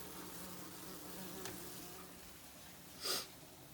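Common wasps fly from a nest under a roof in Le Pian-sur-Garonne, giving a faint, steady buzzing hum with a brief louder pass near the end.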